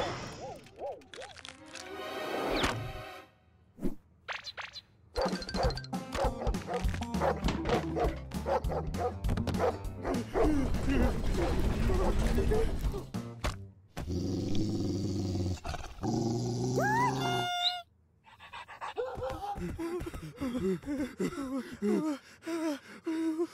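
A cartoon dog barks and growls repeatedly in a loud, busy stretch, with gasps and yips mixed in and background music carrying on around it.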